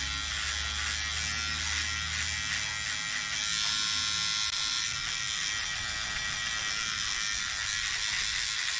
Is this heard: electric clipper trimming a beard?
yes